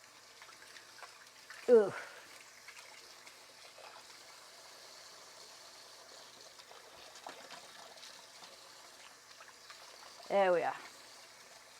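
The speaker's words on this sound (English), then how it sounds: "I'm going to wash my hands." A kitchen tap runs as hands are washed, a low steady trickle of water with a couple of short louder splashes, while a person speaks briefly.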